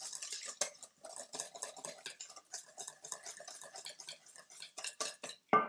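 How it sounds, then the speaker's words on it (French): A utensil stirs buckwheat galette batter in a bowl, a close run of quick rhythmic scraping and clinking strokes, ending with a sharper knock against the bowl. "Allez, on mélange."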